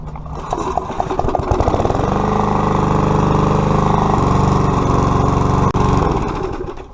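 A Briggs & Stratton lawnmower engine running rough, misfiring and sputtering as it starts up and settles into a loud, close, steady drone with uneven pulses and a brief dropout near the end.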